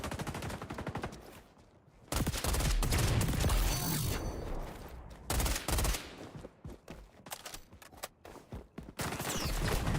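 M-16 rifle fire in the shooter game XDefiant on the Attica Heights map, with loud, close bursts of rapid automatic shots broken by brief pauses and quieter gaps, repeating across the stretch.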